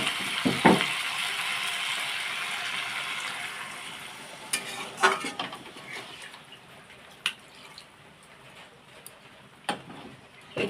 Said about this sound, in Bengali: এবারে আলু আর কুমড়োটা দিয়ে এটাকে দিয়ে একটু ভালো করে কষিয়ে নিতে হবে।